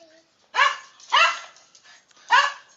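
A jealous dog barks three times nearby, loud and sharp, each bark separated by a short pause, in an otherwise quiet room.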